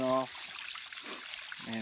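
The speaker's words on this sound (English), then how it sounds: "the babbling brook just sounds awesome, just sitting here and listening to it" A small creek at a wildlife management area babbles and trickles steadily, with faint water flow running between brief bits of someone talking close by.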